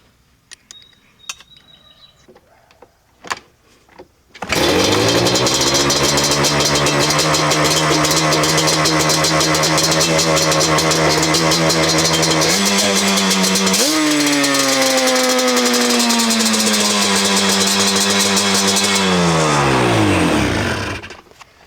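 A Yamaha Banshee engine runs loudly and continuously while its carburetor idle screws are adjusted, holding a steady idle with a brief dip and rise in pitch before it cuts off near the end.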